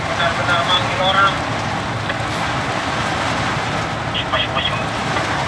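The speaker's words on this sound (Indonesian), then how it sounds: "Ini betul-betul badai teman-teman ya. Ada hujan ini teman-teman ya." A heavy rainstorm pours down at a mine as a dense, steady hiss of rain with gusty rumble, close and loud, while someone talks over it.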